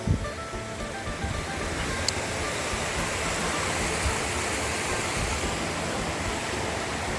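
Mopang waterfall in Pai pours with a steady, dense roar of rushing water, close and continuous throughout with no pauses.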